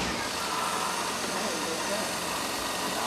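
A car engine idles steadily, a dense, continuous mid-low rumble with broadband roar, loud and close, with no clear start-up surge and no pauses throughout.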